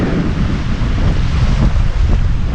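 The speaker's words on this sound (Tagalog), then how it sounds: "lakas ang hangin" Strong wind blows at Mapanuepe Lake, buffeting the microphone with a loud, continuous low roar and gusty rumble, close and unbroken, with no voices.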